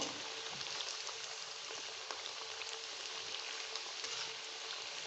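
Four semolina langcha sweets fry in oil over a medium flame, giving a soft, even bubbling sizzle with light crackles, faint and steady throughout with no speech.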